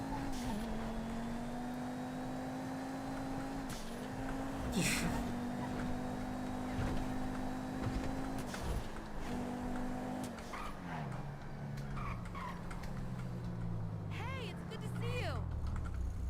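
The 9F sports car, the in-game stand-in for the Audi R8, drives in GTA 5 with a steady droning engine note that rises and shifts with gear changes, under continuous chatter from people talking.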